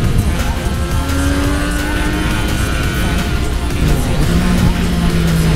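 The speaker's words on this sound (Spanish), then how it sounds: "Soy capaz de hacer golpe de gas y todo" A Daytona motorcycle at high speed, above 200 km/h, roars loud and steady with heavy wind rush, its engine pitch rising and shifting as the throttle is blipped.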